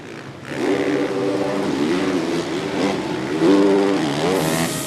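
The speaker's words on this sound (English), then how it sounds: "Full rev limiter in the air before he puts that power back to the ground" A 450 motocross bike at a Spring Creek Pro Motocross race screams against its rev limiter in the air, a loud sustained buzzing wail with stuttering pitch, then climbs again as power returns; no one talks over it.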